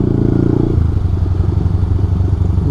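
A Rouser 180 motorcycle rides through traffic, its engine putting out a loud, steady rumble with a rapid throbbing pulse and some rattling clatter.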